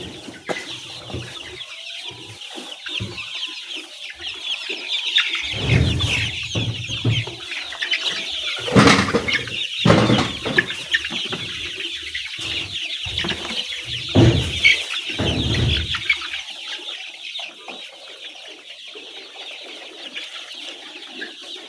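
Layer chickens at their feeders, a flock clucking and calling over a steady background of soft chatter, with a few louder bursts and occasional wing flaps, fairly close by.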